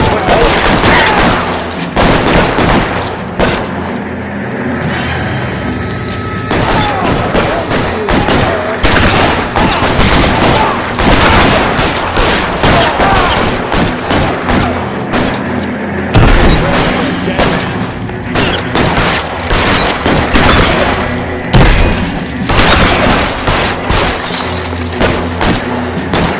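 A prolonged heavy shootout in L.A. Noire, with dense overlapping gunshots, booming impacts and shattering hits, loud and nearly continuous, with voices shouting intermittently underneath.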